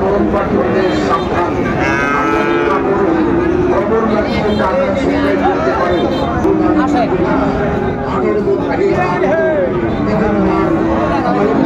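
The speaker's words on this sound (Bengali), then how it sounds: "ফ্রিজিয়ান ক্রসের ষাঁড় বাচ্চা আমরা দেখছিলাম, কোয়ালিটি সম্পন্ন" A Friesian cross bull calf, about eight months old, moos loudly at a busy cattle market, its drawn-out calls rising over dense crowd chatter and bargaining voices.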